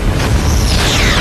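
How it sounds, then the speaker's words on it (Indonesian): A machine exploding in the 2003 film Paycheck: a loud, sustained broadband blast with a heavy low rumble that stays at full strength throughout, with no talking. "mesin itu pun meledak dan langsung menewaskan dirinya"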